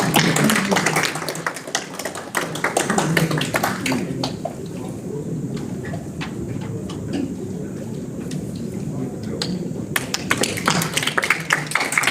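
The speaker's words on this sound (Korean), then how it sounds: "큰 박수로 말씀 청해 듣겠습니다." Audience applause at a Korean history forum, welcoming a professor to the podium: a dense, sustained patter of many clapping hands that fills the room, thinning slightly midway before swelling again toward the end.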